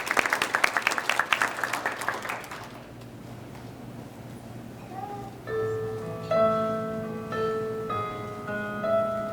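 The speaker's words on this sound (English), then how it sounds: "Can you give them a round of applause?" Audience applause at a Tree of Life celebration, dense and steady for a few seconds, then fading as a singer's sustained vocal and tonal musical notes take over.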